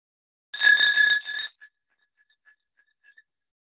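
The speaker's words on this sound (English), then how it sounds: "if you grab any piece of cutlery, it sounds like this" Cutlery scraped on an anise liqueur bottle: a bright metallic scraping rattle, a dense burst lasting about a second, followed by a few faint scattered clinks and taps.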